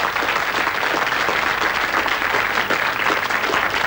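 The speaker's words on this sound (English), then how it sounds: "Give him a round of applause." Audience applause in a studio for a grammar school student, dense, steady clapping from a large crowd that holds at an even level throughout.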